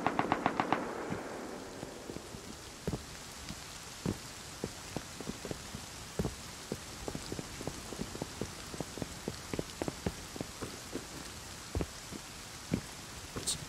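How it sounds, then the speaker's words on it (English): AK rifle gunshots in the survival game Rust, a fast burst close by at the start, then scattered sharp shots and short volleys spread through the rest, over a steady background hiss. "Some AK shots over there"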